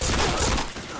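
A brief, loud barrage of gunfire is aimed at the player in the shooter game Point Blank, a dense burst that drops off quickly.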